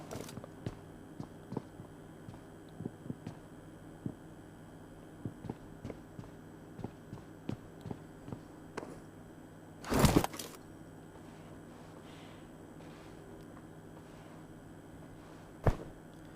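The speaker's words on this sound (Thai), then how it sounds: "แล้วก็ฟังเสียงเท้าคน" Faint, steady footsteps in the video game PUBG tap out an even walking rhythm, with a couple of sharper clicks standing out in the otherwise quiet scene.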